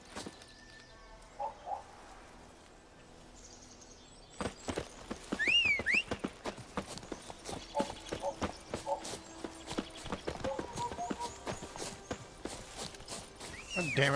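Roach the horse walking in The Witcher 3, hooves clip-clopping in a steady, uneven rhythm at moderate distance, with bird chirps and ambient wilderness sounds around, and a voice speaking over parts of it.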